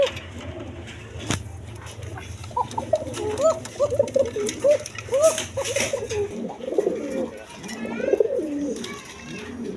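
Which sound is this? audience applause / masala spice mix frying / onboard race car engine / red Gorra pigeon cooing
red Gorra pigeon cooing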